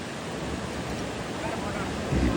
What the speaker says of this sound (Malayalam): ഈ പാറയുടെ താഴെയായിട്ട് നമ്മൾ നേരത്തെ കണ്ട വെള്ളച്ചാട്ടം ഒഴുകി പോവുകയാണ്